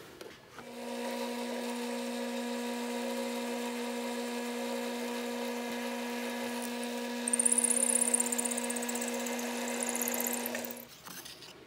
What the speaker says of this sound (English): The trick to drilling a hole all the way through the tube is having a drill fixture.